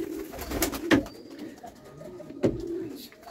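Pigeons coo in a sheltered pigeon house, with soft low throaty calls repeating close by and two stronger coos standing out.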